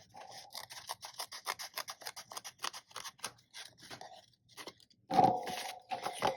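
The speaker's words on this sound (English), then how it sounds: "I'm gonna go ahead and cut this off close to that stitch." Scissors snip close to a stitch through paper ephemera on a travelers notebook insert: a quick run of crisp, close-up cuts, a short pause, then a louder final crunching snip.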